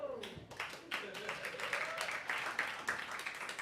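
An audience at a live comedy show claps in a dense, scattered patter that rises and continues for several seconds while people talk over it.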